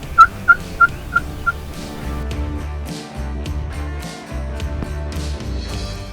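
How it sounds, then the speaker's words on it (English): A quick string of five short gobbles, then a rich layered chorus of wild turkey calls and gobbling continuing steadily, with no voices. "and I call a few turkeys in"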